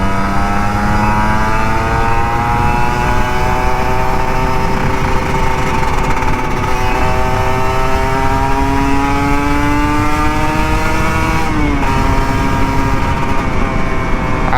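A Kawasaki Ninja RR 150 two-stroke motorcycle revving on a Jakarta street at dawn, its engine note rising steadily in pitch over a long, loud, close pull with a brief dip and recovery near the end; no talking.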